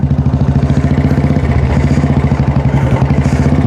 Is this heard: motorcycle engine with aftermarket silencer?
yes